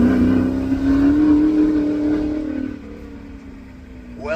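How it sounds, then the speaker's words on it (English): A 5-litre V8 race car at a hillclimb revs loudly and close by, a sustained rising engine roar that holds, then eases off into a lower drone. "listen to the torque of this 5-litre V8."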